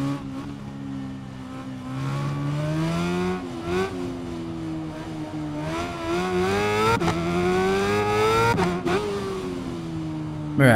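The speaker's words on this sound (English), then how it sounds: "now we're going to do a time trial on the BMW race modified around the bike circuit" BMW race-modified motorcycle lapping a bike circuit in the Ride 5 video game: a high-revving engine whine climbing and dropping through gear shifts, loud and continuous, with no talking.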